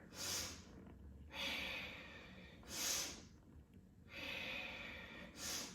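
Sharp sniffing inhales and longer breaths during a yoga breathing exercise in a vinyasa flow session, about five strong breaths alternating in a steady rhythm, close but quiet, with no talk.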